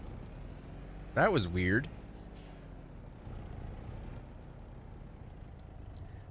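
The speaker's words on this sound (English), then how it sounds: "What the heck kind of brakes are those?" Truck air brakes in Farming Simulator 22 give one short, loud, squealing hiss that bends in pitch over a low engine hum. Someone speaks briefly afterward.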